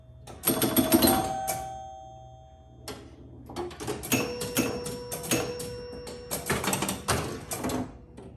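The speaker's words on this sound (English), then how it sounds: "So that's the chime unit rebuilt." The rebuilt chime unit of a Bally Flip Flop pinball machine rings out in a series of loud, bell-like strikes, each tone lingering and decaying before the next hit.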